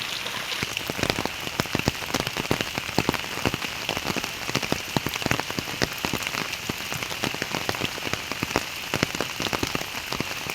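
Heavy rain pours steadily on a village day in Bangladesh, a dense, continuous hiss of drops pattering on surfaces close by, with no voices over it.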